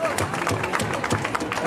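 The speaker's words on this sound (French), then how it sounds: "Allez, on l'applaudit, merci." A crowd of teachers at a street protest in Paris claps together, a close, dense burst of applause mixed with shouts and babble of voices.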